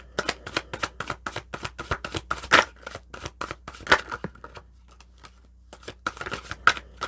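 A deck of tarot cards being shuffled by hand, with a rapid series of crisp riffling bursts close by, a brief pause midway, then more quick shuffles and card snaps, with no talking.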